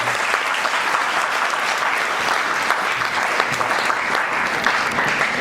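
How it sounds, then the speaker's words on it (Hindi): Loud, dense applause from an audience at a leadership training session fills the whole stretch evenly, a thick wash of clapping with no break. "जोरदार तालियां इस स्लाइड के लिए।"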